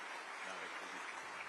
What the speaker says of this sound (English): Please, ladies and gentlemen, a round of applause for President Macron